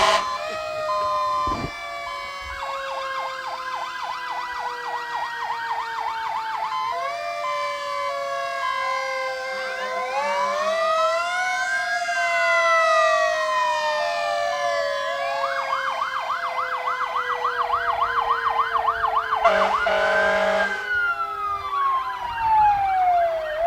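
Fire department sirens during a parade with an Algonac Clay fire unit, several loud wailing and yelping sirens overlap and sweep up and down continuously for over twenty seconds.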